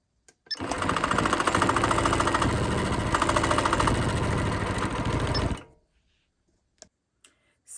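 A sewing machine, recently oiled after sitting unused, runs in one loud continuous rattling burst of about five seconds, then cuts off, leaving a few faint clicks.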